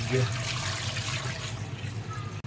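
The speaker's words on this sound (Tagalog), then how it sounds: "Lagyan natin tubig." Water poured into a cooking pot while fish soup is being made, a steady splashing fill that runs for a couple of seconds before cutting off abruptly near the end.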